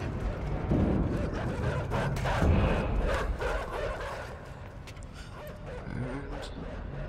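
Dogs barking and yipping in the video game Inside, sharp repeated barks with whimpers over a busy rumbling game soundtrack.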